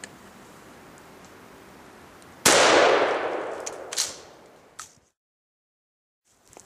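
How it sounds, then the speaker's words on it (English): A single 12 gauge shotgun round loaded with lead shot fires at a target outdoors, a sharp loud blast that rings out and decays over about two seconds, followed by a couple of smaller knocks before it goes quiet. "I'm going to shoot a shot round at it, one that has lead shot, not a slug, lead shot, and this is a 12 gauge round"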